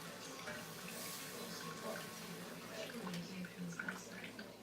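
Water being poured and splashing into a pot while cooking smothered cube steak and greens, a soft irregular trickling and sloshing heard faintly in a kitchen, with a few small drips near the end.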